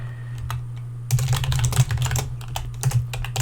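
Fingers type a project name on a computer keyboard while building a Roblox platformer, at first as a few sparse clicks, then as a quick, dense run of close keystrokes over a low steady hum.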